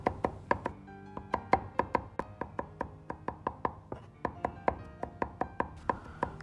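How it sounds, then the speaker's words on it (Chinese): Garlic cloves being minced with a cleaver on a chopping board, a fast, steady run of sharp, close knocks that continues without a break. "把大蒜先拍破， 然后再剁碎。"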